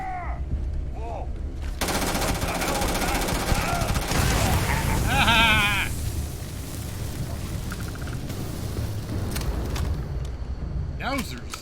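Rapid gunfire in the Starfield video game, dense automatic bursts and scattered shots mixed with game effects, loud and close, with people talking and exclaiming over it.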